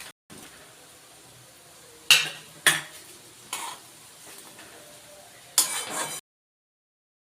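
Tiger prawns frying in a pan with green chillies: a quiet sizzle under several sharp scrapes and clinks of a utensil against the pan, then silence.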